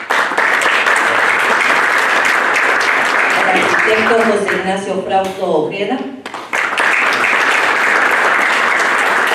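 A panel audience gives loud, sustained applause in a hall. A speaker's voice cuts in over it midway, then the clapping swells back to full strength.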